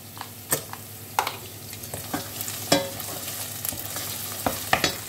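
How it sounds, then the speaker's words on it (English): Garlic paste and cooked-through onion sizzle in margarine in a pan for homemade chicken curry, a steady frying hiss broken by several sharp scrapes and knocks of stirring. "I'm just adding a dollop, whatever your taste might be, of garlic paste"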